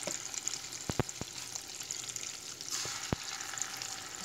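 Corn fritter batter fries in plentiful hot fat, a continuous close hiss with a few crisp spoon taps on the pan and a brief swell in the sizzle, no one speaking.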